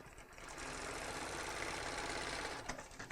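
Sewing machine stitching a half-inch rolled hem on hammock fabric, a steady close, loud mechanical whir running continuously with a brief stutter near the end.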